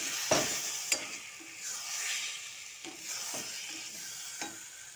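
Something fries in a pan with a soft sizzle, punctuated by several sharp utensil taps and scrapes as it is stirred, close and fairly quiet.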